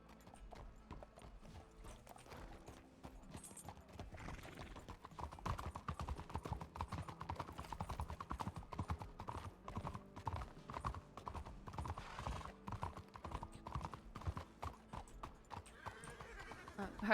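Horse hooves clip-clop in a steady, rapid rhythm on a town street in the RedM roleplay game, continuous and fairly close, with occasional voices talking.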